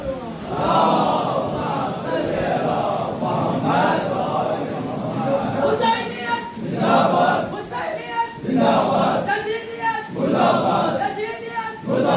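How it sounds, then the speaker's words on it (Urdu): Large crowd at a Muharram majlis chanting religious slogans in loud rhythmic unison, rising in repeated surges of massed voices with short pauses between calls. "اب بیلور والے نعرے لگا رہے ہیں"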